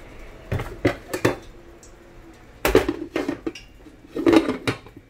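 A metal lid clatters onto a pan of steamed cabbage in a home kitchen, several sharp clanks and scrapes in irregular bursts with a final cluster of rattles, close and fairly loud, no talking.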